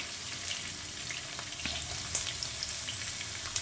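Green chilies and onion fry in a pan for a broad bean stir-fry, a steady close sizzle with bright crackling pops and a few louder spits near the end, no voices.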